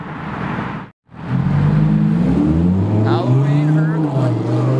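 A Lamborghini Huracan Evo sports car engine roars loud and close with a steady growl, cutting out briefly before surging back and rising in pitch as it revs, with a voice talking over it.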